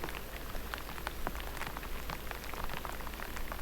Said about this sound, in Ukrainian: Ось і дощик пішов.